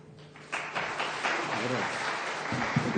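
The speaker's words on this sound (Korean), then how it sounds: "지금 나오시게 될 때 한번 격려 힘찬 박수에 주시기를 바랍니다" Applause from a church congregation at an afternoon worship service rises after a quiet moment into a steady, moderately loud patter of many hands, with voices audible over the clapping.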